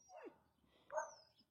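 Stray dogs outdoors give a short high whimper and then a sharp bark, two brief separate calls with quiet gaps, moderately near.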